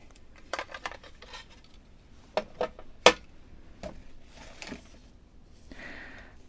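A sewing box and its needle-tray lid are handled up close, giving sparse, sharp clicks and light knocks of the lid and contents against a quiet background.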